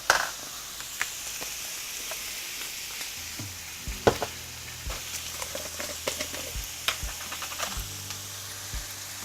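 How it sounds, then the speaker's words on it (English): Fried rice sizzles steadily in a hot pan while a spatula strikes and scrapes the metal in sharp, irregular knocks, loud and close, with no one talking. "A few quick stirs and you can now start to add in your other ingredients"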